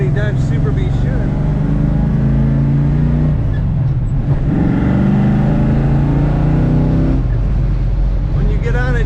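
A 1970 Dodge Super Bee V8 accelerating, loud and close, with rising engine pitch sweeping up through several gear pulls and a brief drop between them.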